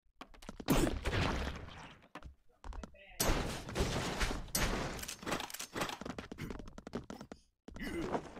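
Gunfire and explosions from the Broforce video game come in a dense, chaotic burst of loud cracks and crashing impacts, broken by short gaps, with a player talking over it.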